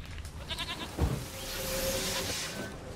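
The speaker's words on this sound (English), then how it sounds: "Here, goat." Goat bleating in The Witcher 3, a stubborn horned goat heard in a few wavering, nasal cries over soft outdoor ambience, with a brief thump midway.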